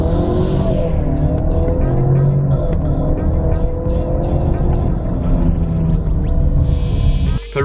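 Ford Explorer turbocharged petrol SUV cruising in sport mode on an expressway, with a steady loud cabin drone of engine and road noise throughout, no voices heard.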